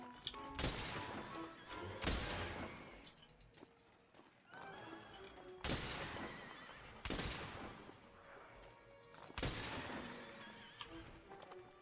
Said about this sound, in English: They sound like horses